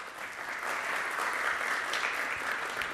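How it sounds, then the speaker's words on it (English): A conference audience applauds a speaker at a tech talk on agile and Kanban, steady dense clapping that carries through all three seconds at an even level with no voices on top. "A big round of applause, guys."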